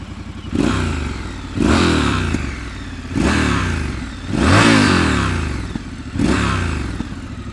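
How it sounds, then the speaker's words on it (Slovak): A 2019 Triumph Scrambler 1200 XE motorcycle engine on stock exhausts revs repeatedly, five loud throttle blips rising and falling in a steady rhythm over a rough idle, close by. "bol by hriech vám Scramblera aj nenaštartovať, aj keď sa bavíme tu na sériových výfukoch"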